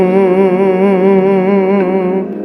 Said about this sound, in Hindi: इस प्राणायाम को करने से ऐसी आवाज़ आती है